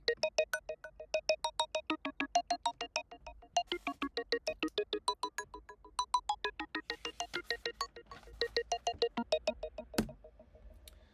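A bright, plucked bell-like pattern arpeggiates in quick, steady repeated notes, ringing out with a wash of reverb and echoing delay.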